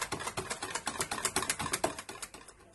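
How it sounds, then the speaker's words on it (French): A whisk beating ingredients in a bowl, a quick steady run of sharp rhythmic clicks close by. "De préférence, on prend un fouet. Il faut bien mélanger."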